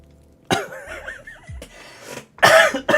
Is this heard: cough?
yes